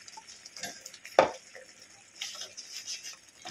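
Dry chili, Kashmiri chili and coriander powders get stirred into frying masala for rohu fish, with quiet scraping and shuffling, one sharp clack of a spoon against the pan, and a faint sizzle between strokes.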